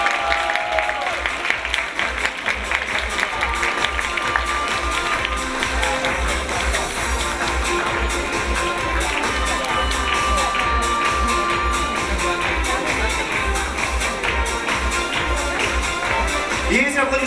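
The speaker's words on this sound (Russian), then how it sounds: "Аплодисменты звучат в честь победителей." Audience applause at the closing ceremony of a Russian national school chemistry olympiad, honoring the winners: sustained, steady clapping from a large crowd across the whole stretch, dense and even with no break.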